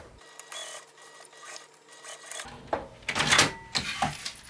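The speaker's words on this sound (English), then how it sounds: "just top stitch on the jelly vinyl, attaching it to the seam." A sewing machine top stitching clear and jelly vinyl for a travel pouch, a close, fairly loud mechanical whirring run of stitches that builds toward the end, with no voices.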